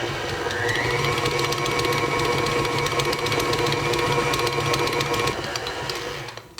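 Stand mixer kneading whole wheat bread dough with sunflower seeds at speed setting 4, a steady continuous motor whir with a faint rhythmic mechanical clatter, close and loud throughout, winding down at the end.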